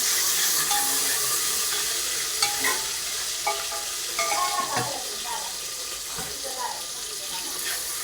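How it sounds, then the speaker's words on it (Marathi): Onion frying in a pan as it is stirred, a steady loud sizzle with scattered scraping and clinking stir sounds, close and continuous. "त्याच्यामध्ये कांदा टाकूया. चांगलं हलवू आहे."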